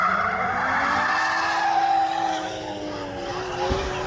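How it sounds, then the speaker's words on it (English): A convertible E46 BMW 330 Ci drift car slides around Sydney Motorsport Park on a wet track, its engine note rising and falling under sustained tire squeal and skidding, loud and close throughout. "I was at Sydney Motorsport Park in the convertible E46 330 Ci, which is my wet weather warrior drift car"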